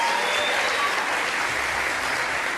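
Steady, dense applause from a large television studio audience, continuous clapping throughout with no breaks.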